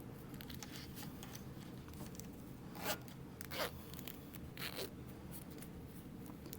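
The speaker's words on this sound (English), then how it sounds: "I'm going to add my pull to my zipper" Small zipper pull being fitted onto a pouch zipper, a few faint metallic clicks and scratchy ticks, brief separate snaps spread over steady low room noise, no voices.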